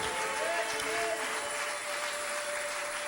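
A church congregation applauds together in a sustained, dense wash of clapping that holds steady from start to finish, with a faint voice or cheer blended into the crowd noise.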